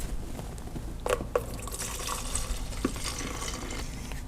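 Two-part etching primer for a Titan Mk9 frame being poured into a Rubbermaid container, a steady close liquid trickle running throughout with a few soft drips and clinks, no talking.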